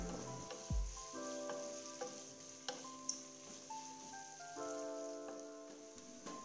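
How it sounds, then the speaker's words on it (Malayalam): Onions frying in a little oil over a high flame for paneer biryani give a steady, faint sizzling hiss with occasional crackles, under soft tonal background music. "നമ്മൾ വളരെ കുറച്ച് ഓയിൽ ഉപയോഗിച്ചാണല്ലോ ഫ്രൈ ചെയ്തെടുക്കുന്നത്."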